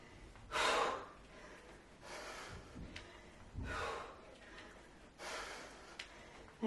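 Heavy breathing during a high-intensity kettlebell interval workout at home: four loud, close, rhythmic exhales or gasps about every one and a half seconds, with quieter breaths in between.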